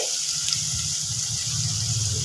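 A little water is poured into masala cooking in a pan, a steady splashing pour that runs unbroken and fairly close for a couple of seconds.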